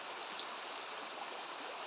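A river stream flows close by, a steady, soft hiss of rushing water with no breaks and no voices.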